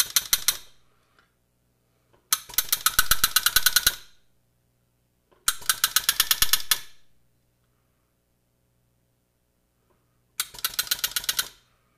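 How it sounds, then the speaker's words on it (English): A hammer repeatedly strikes a metal texturing stamp into a workpiece, in four separate bursts of rapid sharp metallic blows, each a cluster of hits followed by quiet pauses. "with the bigger stamp, it may take a couple of hits to really get the pattern in there"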